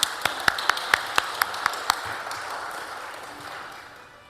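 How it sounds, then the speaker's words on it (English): A short burst of hand claps from a church congregation, about eight sharp claps in a quick, slightly uneven rhythm, then fading into quiet room tone. "Lori needs a clap."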